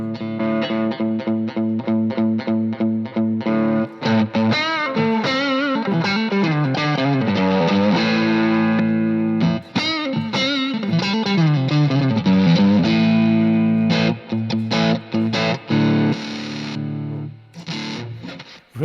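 Electric guitar through a distortion setting, sustained saturated riffs and held notes with heavy overdrive and chorus-like shimmer, loud and alone without talk.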